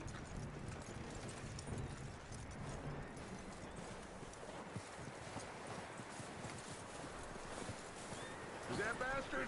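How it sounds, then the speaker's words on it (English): Horse hooves clip-clop steadily in a PS4 video game, with a rhythmic, fairly close trot under game ambience and a speaking voice, then a short whinny near the end. "That looks like a decent horse."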